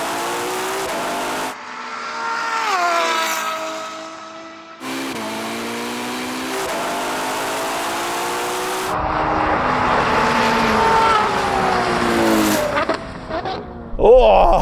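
Ferraris, a 296 GTB, SF90, 812 GTS and Purosangue, launch in a drag race, engines roaring and rising through gears in loud sweeping passes, with tire noise and shifts between runs.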